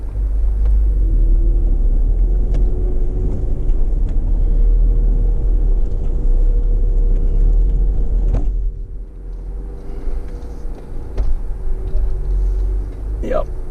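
Jeep crawling over a tricky rock section on the Hole in the Rock trail, a deep continuous engine rumble close by that eases briefly near the end, with scattered knocks and a person talking over it.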